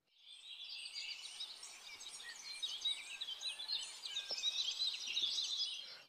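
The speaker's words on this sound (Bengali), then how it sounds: "পরের দিন সকালবেলা পাখিদের কিচিরমিচির আওয়াজে আমার ঘুম ভাঙল" Birds chirp and twitter in the morning, a dense, steady chorus of small high calls running throughout without any voices.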